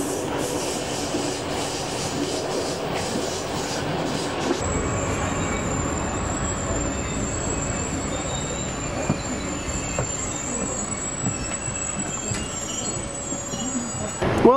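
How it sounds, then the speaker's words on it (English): Steady rumble and rattle inside a moving passenger train in Poland, with a thin, high metallic wheel squeal running over the continuous noise. "we're on the train going to Wrocław."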